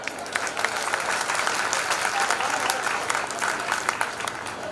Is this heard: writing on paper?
no